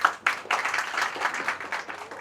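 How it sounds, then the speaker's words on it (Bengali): An audience claps for a guest at a grand meetup function of a Chinese-language academy, a fairly faint patter of many hands in uneven bursts over a couple of seconds. "স্যারের জন্য আবারও হাততালি।"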